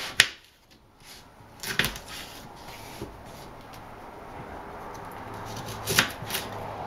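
A knife halves Brussels sprouts on a cutting board, giving a few crisp, separate chopping clicks spaced seconds apart, fairly close and quiet, with soft handling sounds in between.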